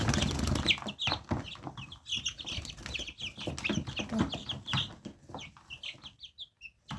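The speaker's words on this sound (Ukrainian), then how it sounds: "Трохи є отакі гарні курочки та півники." Hens and roosters cluck and chatter in a busy flock nearby, overlapping short calls with occasional louder squawks and rustling.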